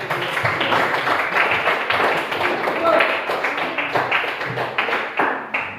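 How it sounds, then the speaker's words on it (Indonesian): A group of students claps together in a classroom at SMPN 11 Kota Komba during a coding and artificial intelligence training session; dense, fairly loud patter lasting several seconds, with voices mixed in. "Tepuk tangan dulu."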